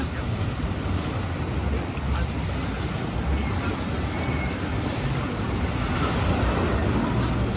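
Steady, loud rushing water and wind roar throughout a rapids water ride at Thorpe Park, a dense continuous wash with no distinct breaks.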